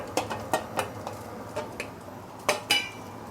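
Pre-cooked white rice tipped into a wok over half-cooked egg for Yangzhou fried rice, giving a handful of sharp metallic clinks and scrapes from a utensil against the pan, close and fairly quiet.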